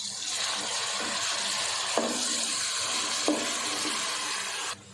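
Coarsely ground masala hits a hot pan of fried cauliflower and potatoes for aloo gobi, giving a loud, steady sizzle with a couple of stirring scrapes before it cuts off abruptly.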